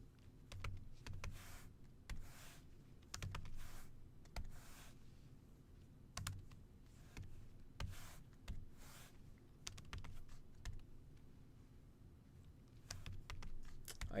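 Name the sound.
typing on a computer keyboard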